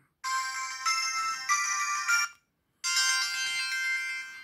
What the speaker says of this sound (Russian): Звуки, звуки звонка.